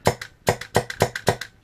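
A Mancraft PDiK HPA airsoft engine fires five quick, quiet shots, each a sharp snap followed by a faint springy echo, spaced evenly and close by with no talking.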